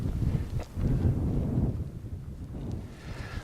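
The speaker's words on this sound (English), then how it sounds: "The wind is blowing quite fierce here on the Altiplano, as it usually does." Strong wind on the high Andean Altiplano buffets the microphone, a loud, gusting low rumble that swells and eases continuously with no other clear sounds.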